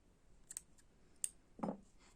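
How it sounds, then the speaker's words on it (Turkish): Scissors snip through crochet yarn at close range: a few light metallic clicks, then one sharper cut near the end, in an otherwise quiet room. "ipimi kesiyorum"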